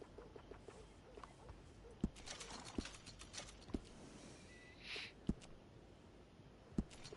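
Steady clip-clop of horse hooves at a relaxed walk in Red Dead Redemption 2, with a few sharper hoof strikes standing out and faint background noise.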